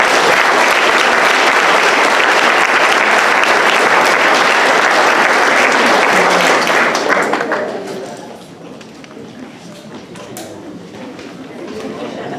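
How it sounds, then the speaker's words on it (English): Loud audience applause for students at an eighth-grade academic awards ceremony at a middle school, a full burst of clapping that holds for several seconds, then drops to scattered claps and murmuring. "Let's give these students a round of applause."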